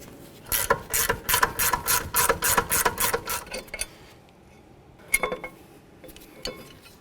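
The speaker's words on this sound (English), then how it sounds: "Move along to my ratchet wrench." A ratchet wrench loosens a rear brake bracket bolt on a 2009-16 Mercedes-Benz E350 with a close, crisp run of about a dozen rhythmic clicks. After a pause come a few scattered clicks.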